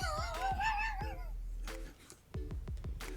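A cat meows several times in quick, wavering cries near the listener, followed by soft thumps and clicks, with a hushed room behind.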